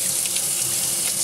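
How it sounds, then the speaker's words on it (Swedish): Cold water runs steadily from a kitchen tap over cooked pasta in a strainer, a close, continuous hissing splash with no pauses. "spolar vi pastan kall"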